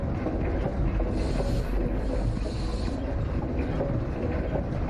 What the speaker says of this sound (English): It's some kind of steam engine. It's so loud.